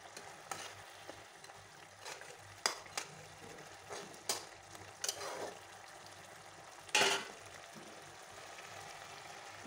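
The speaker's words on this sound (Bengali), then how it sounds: "চিংড়ি মাছগুলো দিয়ে দিলাম।" Prawns go into a pan of bubbling liquid for a prawn kalia, giving a quiet, steady bubbling sizzle punctuated by a few sharp clinks and scrapes of utensils against the pan.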